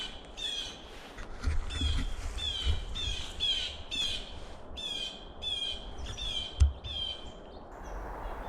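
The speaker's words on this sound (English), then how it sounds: "The blue jay is letting us know there's a predator." Blue jays scold an owl with a run of about a dozen harsh, squawking alarm calls in quick bursts, fairly close and loud over a soft outdoor background, with one sharp knock near the end.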